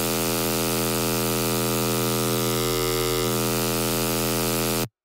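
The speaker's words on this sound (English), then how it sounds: "Let's add just a little bit of distortion" A sustained synth tone with a little distortion hums loud and steady with dense buzzy harmonics, then cuts off abruptly at the end.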